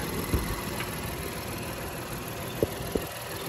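A 2019 Honda Ridgeline RTL-T pickup truck engine idles with the hood open, a steady, even hum with a few faint clicks over it.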